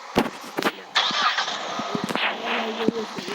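A car engine in a police simulator video game cranks and starts, with sharp clicks and thumps around the start, then a steady mid-level hum settles in and continues to the end.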